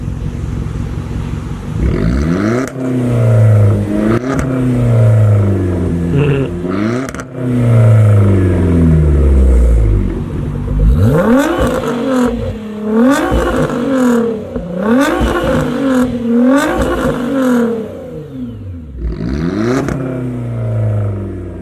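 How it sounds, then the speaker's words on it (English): Audi A3 and Nissan GTR engines at a night car meet rev hard in repeated loud climbing and falling bursts, with crackles between pulls, close and dominating throughout. "let's see which one sounds better. George's A3 or Mikey's GTR"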